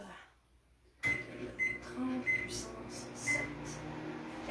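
A microwave oven set to power 70 for a chocolate fondant hums at low volume after a sudden start, with several short beeps sounding over the steady drone.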